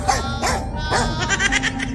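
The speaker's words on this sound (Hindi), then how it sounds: "रॉड अपने घर में एक भयानक कुत्ता को पाल कर रखा है" A fierce dog in a horror story barks repeatedly at close range, with rough, bleating, howl-like cries in a steady series and no talking.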